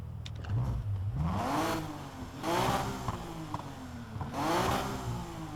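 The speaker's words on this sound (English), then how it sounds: "Engine sound, really well done." Car engine in Need for Speed Heat revving in three rising-and-falling sweeps, each swelling loud then easing back, with no talk over it.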